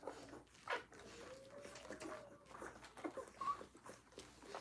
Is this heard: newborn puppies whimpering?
yes